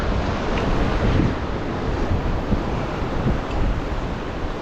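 Steady broadband roar of ocean surf and wind on a breezy beach, constant and fairly loud, with wind buffeting the microphone and no voices.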